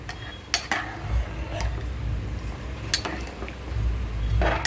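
Khichdi cooking in an open pot, with metal utensils clinking and scraping intermittently over a low simmering rumble, no talk.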